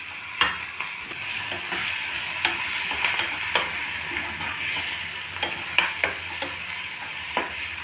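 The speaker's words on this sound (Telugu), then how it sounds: "ఇప్పుడు ఈ చట్నీ వేసేస్తున్నానండి." Ridge gourd and tomato chutney goes into a hot tempering with onions in a pan, sizzling continuously while a spoon scrapes and stirs at a regular pace, close and without talk.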